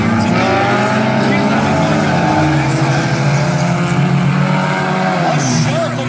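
Four-cylinder class race cars roar loudly together on restart during a heat race at Valley Raceway, a dense, close wall of engine drone with shifting pitch, and an announcer talks over it.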